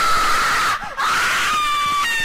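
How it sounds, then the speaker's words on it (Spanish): Sustained high-pitched scream from a character in the horror video game Slendytubbies: The Devil Among Us, loud and piercing, briefly breaking off near the middle before resuming at a steady pitch. "¡Ay! ¡Cómo grita!"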